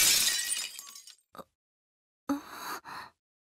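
Glass breaking in an anime trailer: a loud shattering burst fades into scattered tinkling, then after a pause two more bright crashing bursts of breaking glass ring out.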